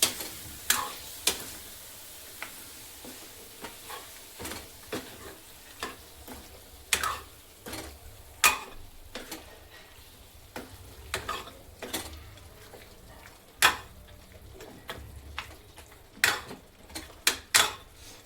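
Mutton pieces stirred into masala in a pan for a mutton rassa, with a steady run of sharp spoon-on-pan scrapes and clinks over a quiet sizzle.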